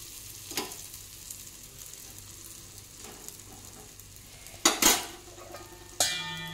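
Bottle gourd thalipeeth fries on a pan as oil is drizzled around its edges, giving a soft sizzle with a few louder scraping bursts near the end and no talking.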